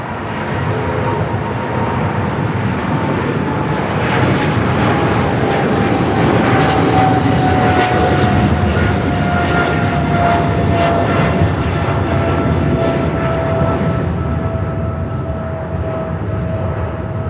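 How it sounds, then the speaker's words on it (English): A Boeing 777 freighter taking off from runway 25 right at LAX, its engines a loud, sustained roar with a slowly falling whine running through it, continuous from start to finish. "I got that 777 freighter rolling down to 25 right."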